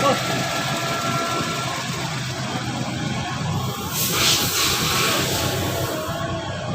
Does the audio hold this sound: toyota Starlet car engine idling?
yes